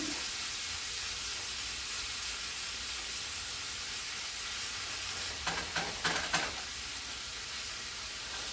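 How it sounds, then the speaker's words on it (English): Ground meat browning in a skillet, sizzling steadily at close range with a faint hiss, as a silicone spatula breaks it up in a few quick scraping strokes near the end; no talking. "Use your silicone spatula to break up your meat while it's browning."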